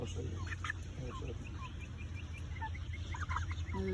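Chickens cluck and murmur in a backyard coop, with several short, scattered calls over a low steady background hum, fairly close and moderately quiet.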